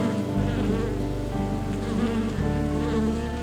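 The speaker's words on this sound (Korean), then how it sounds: "날갯짓으로 바람을 일으켜 벌통 내부의 온도와 습도를 조절합니다" Honeybees fanning their wings at the entrance of a rooftop hive in the city of Seoul during rainy weather, a steady, close, droning buzz of many wings that holds without pause and never stops.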